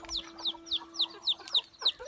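Young hens give a quick run of about eight short, evenly spaced clucks, close and fairly soft, with no other sound over them.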